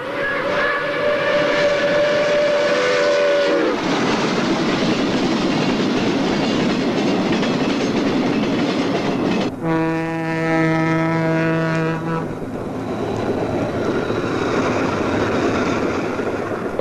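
New York Central steam locomotives run past on the Water Level Route, hauling named passenger trains; loud rolling rail noise and clickety-clack carry throughout, broken by two long steam whistle blasts, one at the start and another midway.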